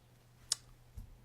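Single sharp mouse click on the zoom tool in Adobe Illustrator, quiet and close, followed by a fainter low thump about half a second later over a steady low hum.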